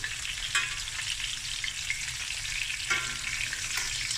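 Snoek fish fries skin side down in a hot pan with a steady, close sizzle and crackle, plus a few faint clinks from utensils.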